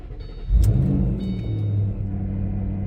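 A car engine starts up on a crisp fall morning before a drive in the western North Carolina mountains, firing with a sharp catch, then revving and settling into a steady, close rumbling idle.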